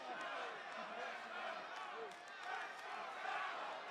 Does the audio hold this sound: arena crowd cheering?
yes